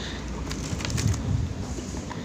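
Zebra doves (perkutut) give soft, low coos, faint and brief against a muffled background.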